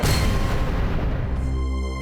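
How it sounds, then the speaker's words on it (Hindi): A single loud gunshot-like blast opens the clip, then a booming echo decays and rings out over two seconds. "किसी और की बेटी को खत्म करने वाली मल्लिका जी आज अपनी सौतेली बेटी पे गोली चलाने गई।"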